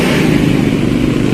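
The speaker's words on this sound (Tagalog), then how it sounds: "Ilang motor kaya to? So, 3 motor." Motorcycles roar past close by on a road, a loud continuous engine drone that holds steady without pause.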